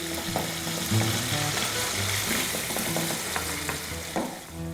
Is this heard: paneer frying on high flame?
yes